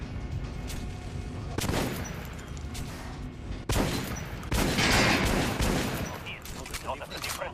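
Bursts of rapid gunfire in the video game Metro: Last Light, aimed at armored enemies: repeated volleys of shots with brief gaps between them, loud and close, with a game voice heard at times.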